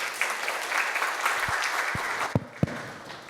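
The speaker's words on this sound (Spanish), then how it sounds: "quisiera que lo recibamos con un fuerte aplauso" Audience applause at a lecture on binding constitutional precedent, a steady dense clapping wash from many hands throughout, with a few sharp louder claps near the end as it winds down.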